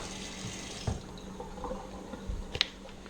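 Water poured into a pan on the stove while making sour cream donuts from scratch, a faint splashing and trickling with a few soft clinks and drips. The sound stays quiet and steady throughout, with no talk over it.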